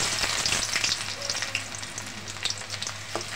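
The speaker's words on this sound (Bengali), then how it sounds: "পেঁয়াজটা আমি ভালো করে ভেজে নেই" Chopped onions fry in hot oil in a kadai, giving a loud, steady crackling sizzle with scattered sharp pops throughout, close up and with no talking.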